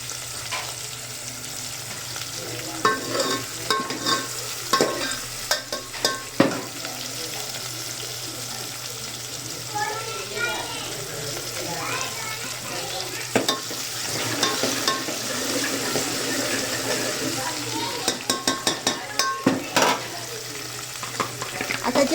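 Tomatoes sizzle and fry in a pan for Nashik-style misal, with repeated scraping stirs and clinks of a spoon against the pan over a steady close hiss, and no one speaking.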